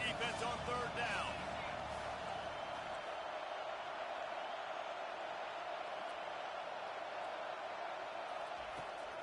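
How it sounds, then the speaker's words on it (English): Stadium crowd at a college football game between Georgia and Mississippi State roaring steadily on a third-down defensive play, a broad sustained wash of noise, loud and continuous, with a brief burst of louder cheering early on. "Decibels rising as the crowd gets behind this defense on 3rd down."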